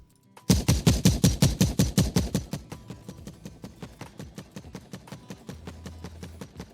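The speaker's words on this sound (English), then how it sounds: "still hear that kind of clicking sound." A rapid burst of repeated game-audio gunshots heard from a distance, loud at first then trailing into quieter, sharp clicking reports in a steady rhythm.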